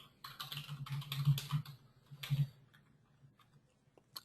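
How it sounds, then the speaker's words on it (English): Quick bursts of computer keyboard typing with some irregular pauses, clicks fairly close and moderately loud, fading to a few scattered taps toward the end. "I can type a reason"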